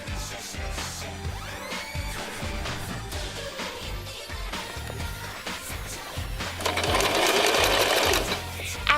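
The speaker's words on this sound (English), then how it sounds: "we're going to be sewing a straight stitch through the fabric" A sewing machine runs a straight stitch through fabric for an infinity scarf, its needle thumping in a quick steady rhythm and getting louder and busier toward the end.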